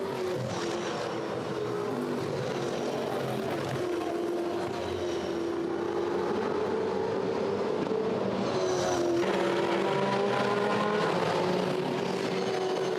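V8 Supercars roar past during the 2011 Yas V8 400 race, a continuous engine drone rising and falling in pitch as cars pass and shift, with a sharper rising sweep near the end.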